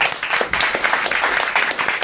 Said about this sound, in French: On applaudit encore Paul Vermus.